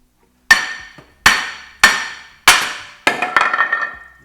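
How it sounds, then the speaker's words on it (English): A hammer strikes a 2012 Mercedes GL450 brake rotor five times in a steady rhythm, each a sharp, loud metallic clang with a short ringing decay, and the last blow is followed by a rattling buzz. "We're gonna whack this rotor a couple times."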